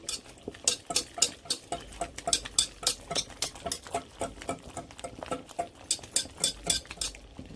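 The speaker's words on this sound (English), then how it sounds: "I'm using a whisk." A whisk beats green plantain porridge for babies in a pot, with rapid, rhythmic metallic clicks and taps, steady and close, without talk.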